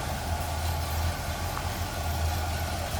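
A 1975 Buick Electra 225 with its 455 V8 idling in the engine bay, a steady low smooth rumble throughout, close and continuous with no talk.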